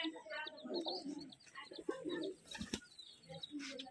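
Rajshahi Giribaz pigeons coo softly and nearby in a few low, throaty bursts, mixed with faint chirps and a brief rustle of wings, with a voice heard quietly in the background.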